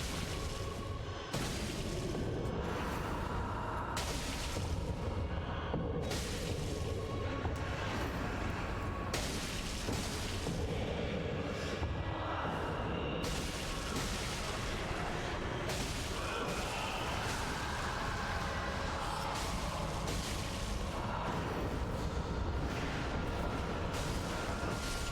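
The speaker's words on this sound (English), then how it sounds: "It's so satisfying watching those explosions go off." Repeated bursts of bleed explosions from the video game Dark Souls 3 during a boss fight with Dancer of the Boreal Valley, booming hits over a dense, continuous game soundtrack and effects for the whole stretch.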